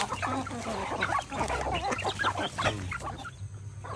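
Native chickens and ducks on a farm make close, busy clucking and squawking calls that overlap continuously.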